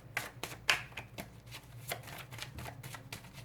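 Tarot cards being shuffled by hand, a run of crisp riffling flicks and soft slaps close up at low volume, with no voice over them.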